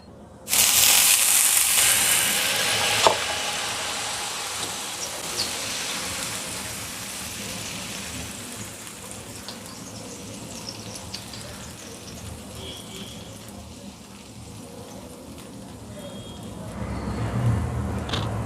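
A dosa made from idli batter sizzles on an old oiled griddle, with a loud burst of crackling as the batter hits the hot surface, then a steady softer hiss and a rise again near the end.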